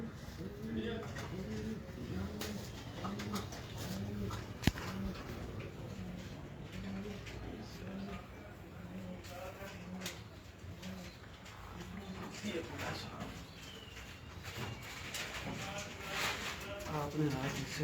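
Pigeons coo in a steady, repeated rhythm close by in a pigeon keeper's loft in Bahawalpur, with someone talking over the calls for much of the time.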